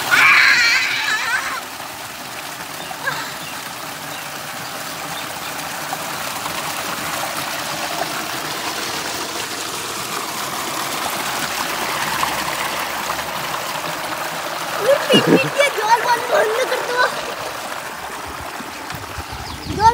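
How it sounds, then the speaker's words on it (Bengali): Water flowing and trickling out of a village stream, a steady broad rushing wash throughout with brief louder splashy bursts; faint voices and a distant cry-like sound sit under the flow. "এই পাশে জল বেরিয়ে যাচ্ছে"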